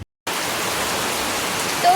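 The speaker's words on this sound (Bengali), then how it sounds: "এই অসময়ে কি বৃষ্টি শুরু হয়ে গেল" Rain pours steadily during a sudden out-of-season shower at a market outing, a dense, even hiss close by, with a brief voice at the very end.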